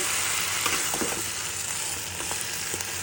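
Fish and bottle gourd sizzle steadily in a hot pan while being stir-fried, a continuous close crackle with a few soft scrapes of stirring, with no voices.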